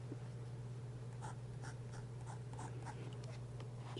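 A fine fountain pen nib scratches across paper in short, faint strokes, close to the listener, over a steady low electrical hum.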